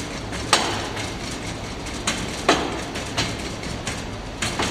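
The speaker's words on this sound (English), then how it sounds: "ram the sand around the outside first, and then back and forth across the center" Casting sand is rammed into a flask for screwdriver casting, heard as several sharp, close thumps at irregular intervals over a low background hiss, with no speech.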